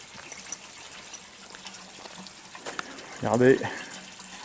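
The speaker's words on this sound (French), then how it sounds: "Nous arrivons donc sur la fontaine du Verdier." Water runs steadily at the Verdier forest fountain, a soft continuous flow in the background while a person speaks briefly near the end.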